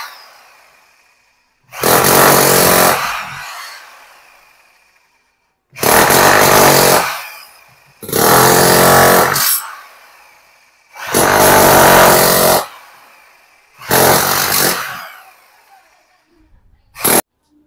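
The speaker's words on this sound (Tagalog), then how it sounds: "natapos na namin gamitin itong aming Inco na chipping gun, demolition hammer" Ingco demolition hammer, a chipping gun, runs in five loud bursts of about one to two seconds each with short pauses between, close and harsh, with no talk over it.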